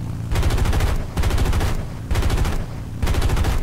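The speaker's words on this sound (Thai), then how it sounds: "ทดสอบเสียงปืนกลจะเปลี่ยนไหม" Machine guns in the War Thunder video game fire in four loud, rapid bursts of about a second each, separated by short pauses, with dense rattling reports and no speech.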